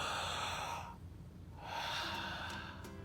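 A slow, deep breath drawn in, heard as a soft airy rush that fades to near silence for about a second before a second breathy rush, close and quiet with no speech.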